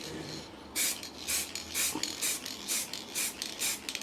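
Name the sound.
spray painting a light coat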